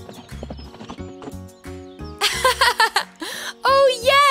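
Cartoon horse hooves clip-clop in quick bursts, followed by loud whinnying neighs, with musical tones and a voice heard alongside.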